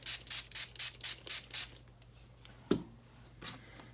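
Tumbled glass being sprayed in a quick run of about seven short, hissing pumps close by, followed by quieter handling sounds and a single knock.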